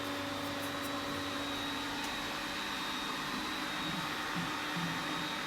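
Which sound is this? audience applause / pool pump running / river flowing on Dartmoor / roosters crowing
pool pump running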